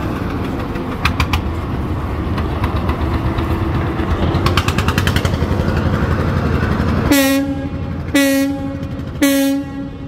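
The passenger launch Parabat 18 pulls away from the ghat at Barishal. Its engine churns in a steady, loud rumble, and three long, deep horn blasts sound near the end.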